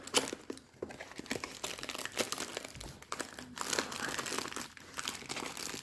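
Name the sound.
opening a crinkly plastic package of cross-stitch fabric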